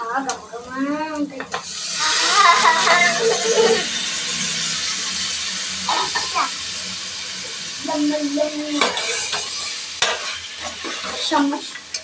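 Onion slices and mutton frying together in a pan, a continuous loud sizzle with stirring scrapes, while a voice talks over it at the start and again later.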